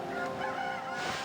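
Farm birds honk and call in the video game Okami, a continuous goose- or fowl-like cry with a raspy tone that carries throughout, fairly loud and with no voices over it.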